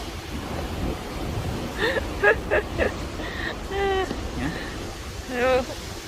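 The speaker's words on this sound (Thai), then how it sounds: "ขึ้นลมแรงมากเลยวันนี้" Strong wind buffets the microphone at sea off Florida near Port Canaveral, a steady broad roar with waves beneath while someone speaks over it.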